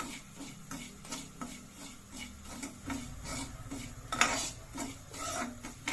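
Dry semolina (rava) stirred and roasted in a little oil in a pan for dill-leaf upma, a steady scraping and rubbing of the spoon against the pan that runs without a break, with a few clinks of utensils and no voices.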